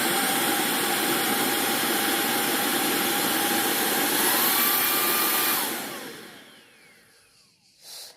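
A Proscenic i10 cordless stick vacuum cleaner runs with a steady loud whirring motor hum, then powers down and winds to near silence over the last few seconds.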